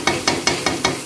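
Chicken chunks stir-fried in masala over high heat, with five evenly spaced scraping, stirring strokes against the pan over a steady background sizzle, close and fairly loud.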